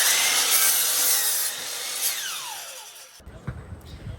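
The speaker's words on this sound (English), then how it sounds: "I will have to cut 2 2x4s to precisely 44 1/4 inches" A power saw cuts through a 2x4 wooden board, a loud close whine with a steadily falling pitch as the blade bites in, then the motor cuts out and a few light knocks follow.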